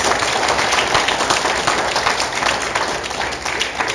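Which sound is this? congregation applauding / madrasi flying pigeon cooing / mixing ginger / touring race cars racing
congregation applauding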